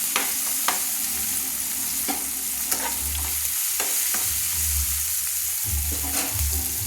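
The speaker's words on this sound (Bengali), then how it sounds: "ভালো করে আমি মশলাগুলো কষিয়ে নিচ্ছি তেলের সঙ্গে" Ground spices and black pepper powder sizzle in hot oil for a green katla fish dish, a dense frying hiss punctuated by repeated spatula strokes and scrapes against the pan, nearby and unbroken by speech.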